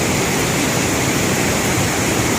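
Sae Pong Lai waterfall in Attapeu province, Laos, roars steadily near the cliff edge as a dense, constant wash of falling water, with no voices over it.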